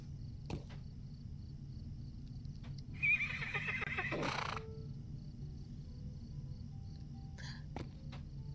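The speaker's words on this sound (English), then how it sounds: "They're actually both pretty decent horses." A horse steed in the online game Lord of the Rings Online gives a single whinny over a steady low ambient hum, with faint hoof clops and light clicks scattered before and after.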